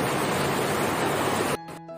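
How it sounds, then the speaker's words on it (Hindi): Heavy rain pours onto an open, uncovered rooftop in Delhi as a dense, loud, steady hiss, then cuts off abruptly near the end, leaving only faint background. "कितनी बारिश पड़ रही है बहुत बारिश पड़ रही है"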